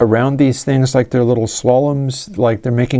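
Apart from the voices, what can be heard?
None of the usual background noises is heard.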